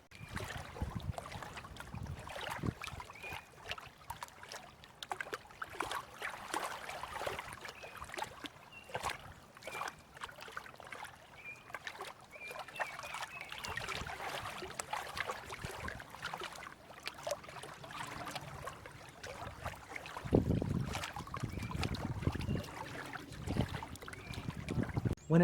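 Rowboats and kayaks out on the water at a day camp in a park, with steady paddling, splashing and water lapping against hulls under light wind, continuous and moderately distant.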